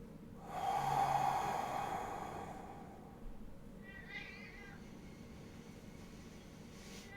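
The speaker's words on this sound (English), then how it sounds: "And this is my cat." A house cat indoors during a home yoga session gives a soft snort and breathy sounds, followed a few seconds later by a short, faint meow, all quiet and close.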